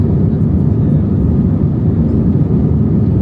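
Cabin noise inside a small passenger plane with six seats per row in flight to Frankfurt International Airport, a loud, steady low engine drone and air rush with no breaks.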